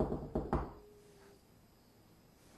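Two sharp knocks on a door land close together near the start, followed by a quiet room with a faint high hum.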